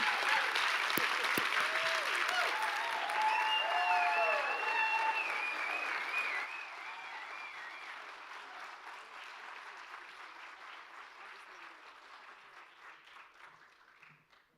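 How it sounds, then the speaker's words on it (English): A crowd at a Minneapolis poetry reading on Palestine applauds the speakers. The clapping is loud at first with voices and cheers mixed in, then fades gradually into a long, thinning patter that dies away. "Please give them another round of applause."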